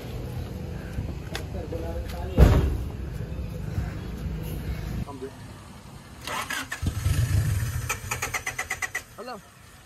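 A car engine with a faulty starter cranks and struggles to start, with a sharp burst and then uneven churning turnover. Voices talk over it from nearby.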